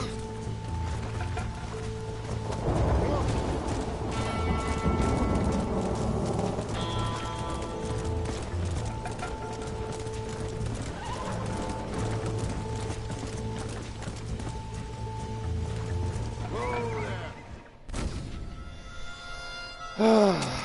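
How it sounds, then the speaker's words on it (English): Hoofbeats from a horse clip-clop steadily through a Red Dead Redemption story-mode scene amid continuous game music and ambience, with a brief neigh near the end; a voice speaks faintly. "If that fucking horse didn't buck me off."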